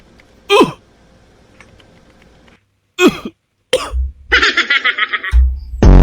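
A person coughs in short sharp bursts, two or three separate coughs with pauses between, followed by brief clattering and a few spoken words.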